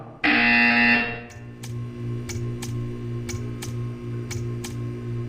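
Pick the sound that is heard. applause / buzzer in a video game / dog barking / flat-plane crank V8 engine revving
buzzer in a video game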